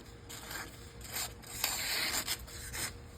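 A Spyderco Military folding knife blade slicing through paper, giving soft, close scratchy rasps in uneven strokes, faint and without voices.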